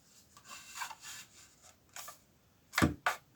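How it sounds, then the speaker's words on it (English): A scalpel makes repeated up and down cuts into ABS plastic pipe, producing faint, short scraping strokes close by, ending with two sharper, louder scrapes. "I'm going to use the scoring to guide my scalpel, do a number of up and down cuts on it"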